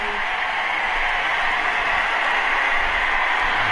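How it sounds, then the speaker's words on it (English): A sold-out crowd at Citizens Bank Park in MLB The Show 18 keeps up a steady, dense roar of cheering and applause, loud and unbroken, with no commentary audible over it. "Sold out crowd here at Citizens Bank Park."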